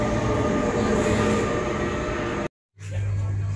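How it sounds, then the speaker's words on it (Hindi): A train rolls into Antwerp Central Station with a loud, close, steady rumble and a low droning hum that cuts out abruptly, then returns moments later. "दोस्तों, ये हमारी ट्रेन आ गई है."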